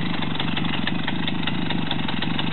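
A Romet motorcycle engine running steadily at a mid pitch as the learner rider pulls away, a dense continuous drone, close and loud with no voices.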